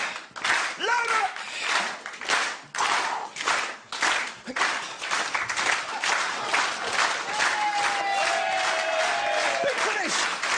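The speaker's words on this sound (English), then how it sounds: "Nice slow hand clap, nice and loud, everybody, come on!" A comedy club audience claps slowly and loudly in unison, a steady rhythmic beat of strong crowd claps with cheers and a voice shouting over them, building toward a big finish.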